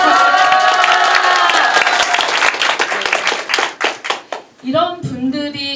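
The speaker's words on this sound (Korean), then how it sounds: "박수 한번 좀 크게 주실래요?" A crowd at a campaign office opening for a by-election candidate claps and cheers loudly, the applause thinning and fading out before a voice begins speaking.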